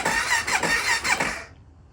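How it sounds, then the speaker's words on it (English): A revived El Chapo Funduro's engine cranks over with the starter, a loud, close whirring with rhythmic pulses for about a second and a half before it cuts off to silence. "Let's see if it cranks."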